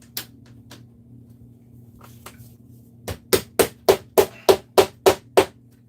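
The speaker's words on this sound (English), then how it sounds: "I can actually put them nearby, hammer them in." LEGO bricks are tapped into place with a hammer. A few scattered light taps come first, then a quick, even run of about nine close, sharp knocks.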